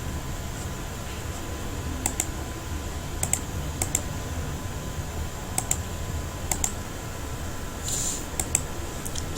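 Typing on a computer keyboard while coding a Django e-commerce app: sparse, sharp key clicks arrive in small bursts and single taps, close and fairly crisp over a quiet background hum.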